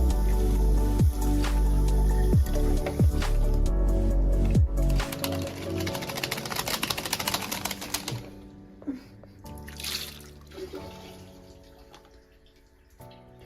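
Water runs and splashes while gunk is rinsed from a clogged sink drain, with wet squelches and drips, a loud rush at first that thins to trickles and faint drips.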